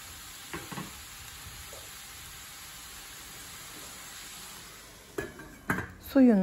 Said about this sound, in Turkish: Suyunu salıp çekene kadar arada karıştırarak pişirelim.